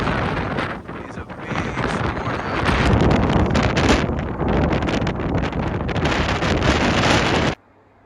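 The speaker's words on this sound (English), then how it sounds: "half of this island is extremely windy" Strong wind on a Greek island roars and buffets the microphone in a loud, steady rush that swells midway, then cuts off abruptly near the end.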